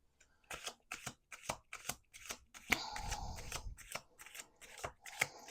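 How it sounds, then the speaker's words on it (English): Tarot cards riffled and shuffled in quick repeated bursts, crisp papery flutters close by with a brief louder riffle midway, no talking. "Let's do two more shuffles."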